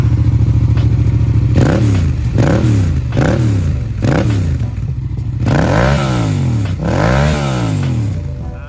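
A 2015 Yamaha MT-07 motorcycle with about 20,000 km revs loudly and close: several quick throttle blips rise and fall, then longer swells, over a continuous engine rumble.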